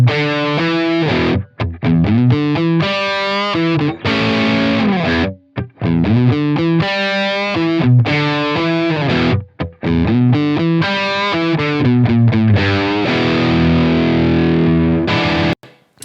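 Distorted electric guitar played through a Line 6 Helix modeler with an impulse response loaded, loud sustained chords and riffs with a few brief pauses, thick and saturated, alone without talk.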